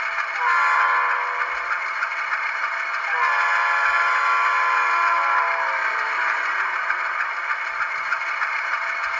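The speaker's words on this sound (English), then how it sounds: "F5 is the Doppler horn." A Rapido ATSF U25B model locomotive Doppler horn blares in a sustained multi-tone chord, its pitch dropping partway through as if passing by, loud and steady.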